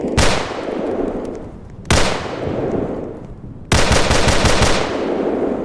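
Three loud bursts of automatic gunfire in a storm chasing video game, each a sharp rattling volley that trails off before the next, with no talk over them.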